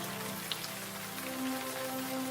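Steady rain patters on a surface outside a window, a soft, even hiss with scattered drops and a faint hum underneath, no speech.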